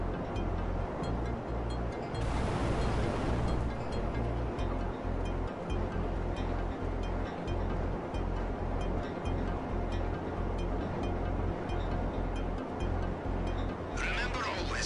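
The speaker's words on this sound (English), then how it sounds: "the waves somehow push the oppressor right off" Ocean waves wash steadily around Cayo Perico in GTA Online, a continuous rushing surf with wind-like noise that swells briefly near the start and holds at a fairly even level.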